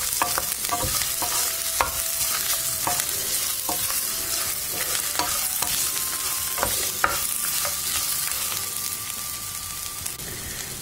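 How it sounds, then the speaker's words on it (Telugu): Amla gooseberry pieces with salt and turmeric fry in hot oil in a pan, giving a steady close sizzle with scattered crackles and a few scraping stirs, and no one speaks. "ఇప్పుడు ఈ ఉసిరికాయలన్నీ కూడా సాఫ్ట్గా అయ్యే వరకు వేయించుకోవాలి."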